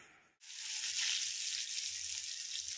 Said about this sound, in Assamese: প্ৰথমে মই বাদামখিনি ফ্ৰাই কৰি লৈছোঁ